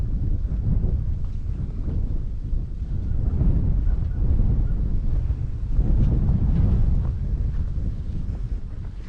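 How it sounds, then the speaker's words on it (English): Strong, cold morning wind buffets the microphone outdoors, a continuous loud low roar with gusting swells and no voices. "I suppose you can hear the wind is pretty strong this morning."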